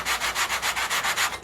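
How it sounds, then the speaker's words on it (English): Light rhythmic sanding of balsa cap strips on a model airplane wing, about eight steady back-and-forth rubbing strokes in quick succession, close and clear with no talking. "So when I'm sanding, I'm just kind of lightly doing this."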